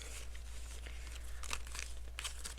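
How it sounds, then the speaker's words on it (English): A paper envelope being handled, with short crinkling and rustling bursts that come and go over a low steady hum. "Put that into our envelope."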